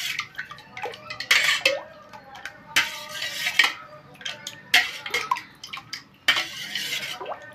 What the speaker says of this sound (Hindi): छाछ मिला के इसको अच्छे से मिला लेते हैं।